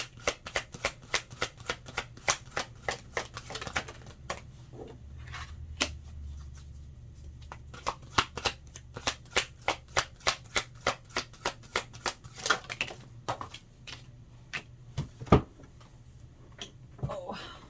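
Tarot cards being shuffled and pulled, crisp riffling flicks and card slaps in bursts close to the listener, continuing steadily throughout.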